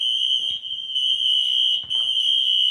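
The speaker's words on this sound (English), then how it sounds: "12 hours of a blaring fire alarm and strobing lights." A loud, steady electronic tone from an apartment building fire alarm blares almost without pause, dipping only briefly twice.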